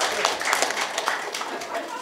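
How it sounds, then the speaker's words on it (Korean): Applause at a district office staff meeting, a scattered burst of clapping from an indoor audience following an official's self-introduction, fairly steady over two seconds with no voice on top. "박수."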